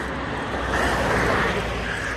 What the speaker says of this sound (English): You hear that car?